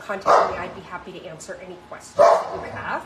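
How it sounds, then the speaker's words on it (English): A dog barks in the background of an indoor live stream, a couple of sharp barks sounding under a person's steady talking. "you can hear the dog in the background"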